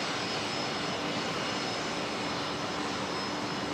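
A Qantas jet at Brisbane Airport gives a steady, dense broadband roar, constant and fairly distant, with no voices.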